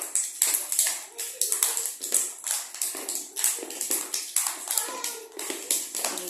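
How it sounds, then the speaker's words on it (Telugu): A group of children claps hands quickly in a classroom, a fast run of sharp, rhythmic slaps close by, with bursts rising and falling steadily throughout. "ఫాస్ట్గా క్లాప్స్ కొట్టండి అందరూ"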